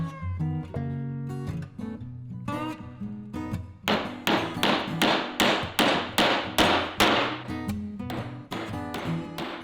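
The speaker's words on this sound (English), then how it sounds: "Line her up and start driving some nails." A hammer drives nails into wood for a sawhorse build: after a few lighter taps, a run of steady, sharp, close blows rings out in quick rhythm, each strike loud and distinct.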